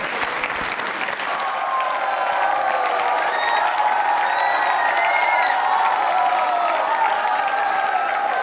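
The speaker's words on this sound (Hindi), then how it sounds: "जोरदार तालियां बजाइए मैम के लिए" Loud, sustained applause from an audience at a school quiz show on consumerism, steady clapping with some cheering mixed in throughout, no talk over it.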